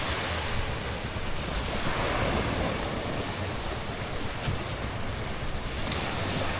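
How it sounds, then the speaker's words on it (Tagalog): Large ocean waves surge and break continuously near the shore, a steady broadband roar mixed with wind buffeting the microphone, with no voices. "Laki rin alon no."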